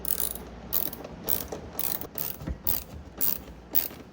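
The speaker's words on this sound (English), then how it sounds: "I'll tighten both of these down and hope that my bracket's lined up good." A ratchet wrench tightens the bracket bolts on the sliding door of a 2005 Honda Odyssey, a close, rhythmic series of about eight sharp clicking pulls with no voices.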